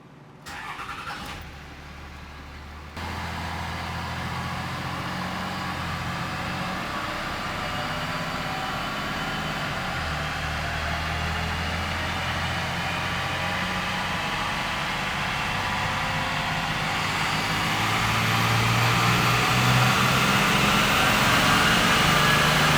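A 2005 third-generation Cummins common-rail diesel pickup starts and runs on a dyno, its loud steady roar holding and then building in pitch and volume as it revs toward the end of a long pull.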